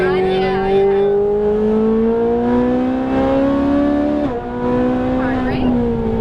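A Ferrari 458 Italia's engine drones through a track session, its pitch climbing gradually, dipping briefly, then rising again under steady throttle, heard close from inside the car.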